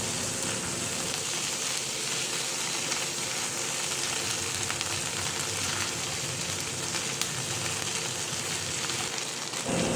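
Tomato paste sautés in a pan, a steady dense sizzle and crackle that holds evenly and loud for the whole stretch without pause.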